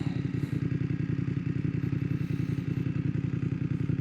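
A BMW F900R motorcycle fitted with an Arrow exhaust rumbles steadily while riding, its deep, rapid engine pulses loud and close with a slight clatter of road noise.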